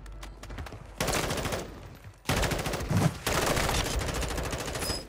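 Automatic gunfire in Warzone 2 rattles in loud, dense bursts, broken by a brief lull and then resuming with rapid shots that blend into a continuous barrage.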